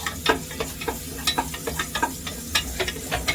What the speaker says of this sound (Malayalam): നമുക്ക് ഒന്ന് ഇളക്കി കൊടുക്കാം